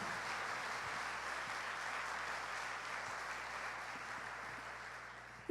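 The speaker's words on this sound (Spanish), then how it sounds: "Dale un aplauso al Rey de Reyes." Steady audience applause at a church service, honoring the King of Kings, sustained and fairly even throughout with a broad, dense texture and no talking.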